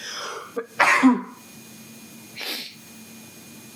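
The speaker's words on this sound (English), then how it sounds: "Hold on, I gotta sneeze." A single loud, close sneeze from a man on a podcast, preceded by a sharp inhale and followed by a quieter sniff and breath.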